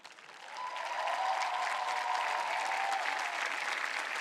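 A graduating class of 2024 at a university ceremony stands and applauds itself, dense sustained clapping that swells within the first half second and holds loud and even, with a faint crowd murmur beneath.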